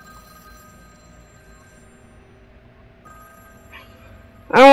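A telephone rings in the horror game Face Your Fears 2. A faint, steady electronic ringing tone hums quietly throughout, then a sudden loud burst comes at the very end.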